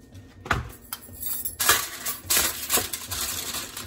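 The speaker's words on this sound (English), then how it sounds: "I'm just gonna take a little bit of foil for the bottom of the pan." Aluminium foil crinkles and clinks as a sheet is torn off and pressed into the bottom of a pan, with a few sharp crackles and handling sounds spread over several seconds.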